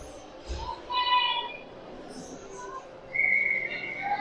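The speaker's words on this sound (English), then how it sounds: "whistle goes" A referee's whistle sounds at a youth ringette game, giving short shrill tones that rise out of arena ambience, with a commentator talking underneath.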